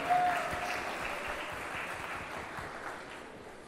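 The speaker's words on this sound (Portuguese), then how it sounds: "Salva de palmas para a querida Rúbia." Sustained audience applause at an evening law lecture event in Brazil, a dense steady clapping from a crowd welcoming a speaker, fairly loud and continuous with no talk over it.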